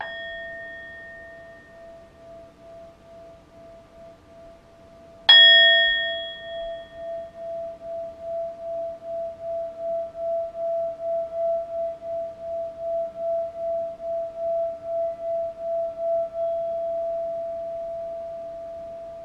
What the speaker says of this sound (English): you would hold it in your palm and you would hit it with a little mallet